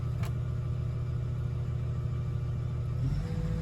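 A vehicle engine revving up in a field, a steady low rumble with a slight rise in pitch and level near the end, heard close and alone.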